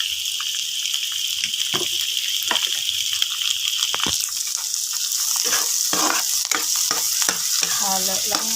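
Hotdog pieces fry in a pan while being stirred, a loud continuous sizzle broken by repeated scraping and clacking strokes of the utensil, with no talking.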